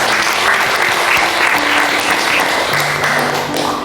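Sustained applause from a crowd cheering the SMK Nasional Malang volleyball team after a match win, loud and dense throughout with no talk over it.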